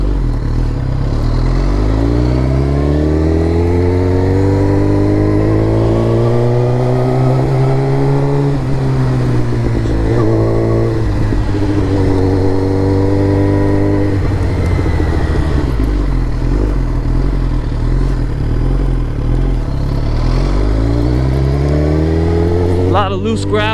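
Suzuki GSX-R 1000 sport bike fitted with an M4 MC-36 full exhaust, ridden on a road with loose gravel: loud, continuous engine drone rising and falling through revs and gear changes for the whole stretch, with a rider talking over it.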